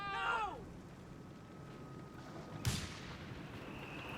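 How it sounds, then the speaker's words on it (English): A mortar shells a church in a Company of Heroes 3 battle between Afrika Korps and British forces, one dull distant impact thump landing partway through amid low battle ambience, with someone talking early on. "The mortar's already bombarding the church."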